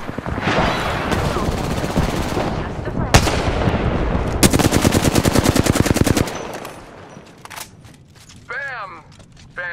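Video game gunfire fills the clip: dense bursts of rapid automatic shots, a sharp single blast, then a long rattling volley, followed by quieter mechanical clicks and whooshing effects near the end.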